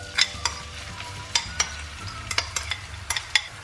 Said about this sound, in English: we're just going to cook the onions till they're nice and golden